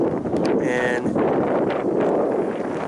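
Wind blowing across a bentonite clay mine site in Creede, Colorado, a steady loud rushing rumble against the microphone with brief higher-pitched tonal bursts near the start.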